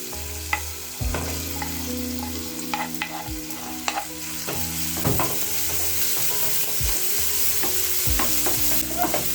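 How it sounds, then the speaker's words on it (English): Onions for a chicken curry sizzle steadily in a hot pan, and a spoon stirs and scrapes through them in irregular knocks and clatters, close and clear. "So I'll start by adding my onions"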